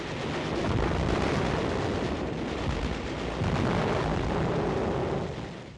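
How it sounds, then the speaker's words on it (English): Tank gunfire and artillery tear into small houses during the Battle of Okinawa on the Shuri front, a dense, loud, continuous roar of firing and blasts with no clear pauses and no voices. "Armor leads the attack to destroy small houses still standing after our artillery and Navy gun bombardment"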